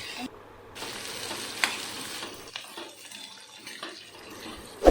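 Cauliflower is stir-fried in a pan, giving a steady low sizzle with scattered spatula scrapes and clinks, close and fairly quiet, with no talking.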